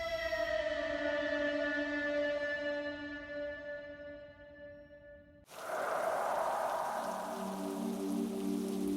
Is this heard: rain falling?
yes